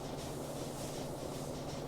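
A train rolls along in the factory-building game Factorio, a steady low rumble with a faint hum, continuous and even throughout with no talking.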